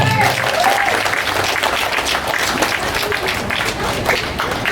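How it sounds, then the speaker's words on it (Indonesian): Applause for the regent at an event marking a church roof replacement, a dense, steady burst of clapping from a large crowd with some voices mixed in, loud and continuous throughout. "Kita beri tepuk tangan untuk Pak Bupati."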